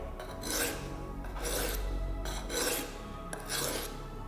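Knife blade of D2 steel stroked across a low grit sharpening stone, four steady rasping passes in an even rhythm, close and clear with no talking.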